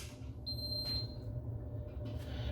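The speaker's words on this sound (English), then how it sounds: "we get a beep and the kettle lights up" A single short electronic beep from a Bosch electric kettle being switched on rings out over a steady low hum, clear and close.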